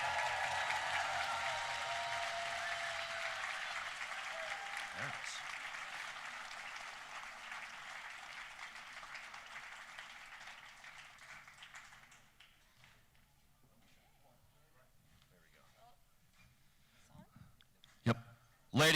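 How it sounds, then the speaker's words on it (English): A crowd at a national championship celebration applauds two Florida State soccer players, loud dense clapping that fades away over about twelve seconds, leaving a quiet room with a few scattered sharp taps near the end. "Please, a big round of applause for Heather Gilchrist and Mimi Van Zanten,"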